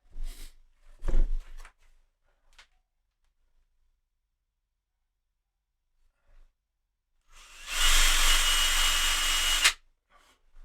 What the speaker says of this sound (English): and we'll drill those guys